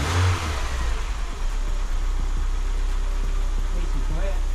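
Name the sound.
BMW Z3 car engine running and revving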